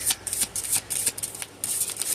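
Tarot cards being shuffled in quick riffling bursts, about seven crisp flurries in a steady rhythm, close and fairly loud with no talking.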